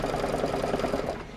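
An embroidery sewing machine stitches out a March table topper, its needle hammering in a fast, steady rhythm close by with no voices over it.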